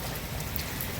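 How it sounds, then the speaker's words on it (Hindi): Rain falls steadily and densely, a continuous close, even wash of patter with no pauses and no talking. "सारी जगह बारिश हो रही है"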